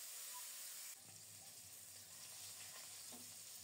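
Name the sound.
frying rohu fish pieces in hot oil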